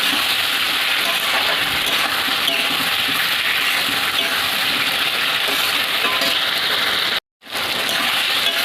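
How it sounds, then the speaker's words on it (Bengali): Fried pointed gourd being sautéed in spice masala in a pan sizzles and scrapes as a steady, loud, hissing crackle with a brief cut near the end. "তো ভেজে রাখা পটলটা দিয়ে কষতে নেব"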